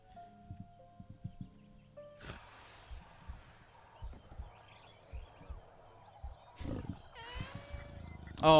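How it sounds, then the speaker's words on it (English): In the video game Copycat, faint tiger roars and growls rumble low in the background of a quiet scene, with a few short clattering and scraping sounds, and a louder roar swells near the end. "You hear, like, tiger noises."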